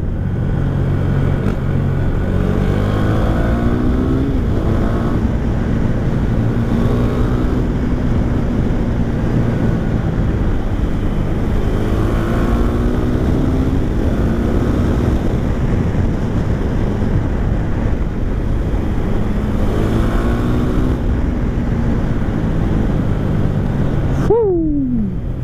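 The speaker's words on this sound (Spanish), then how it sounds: "me encanta cómo suena esta moto para llevar el escape de serie" A 2017 KTM Duke 390 motorcycle engine with its stock exhaust idles and revs with a deep, throaty rumble throughout, steady and close, with wind buffeting the microphone and a brief rising whine near the end.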